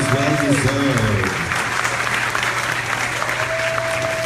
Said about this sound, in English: All right, give the college a round of applause.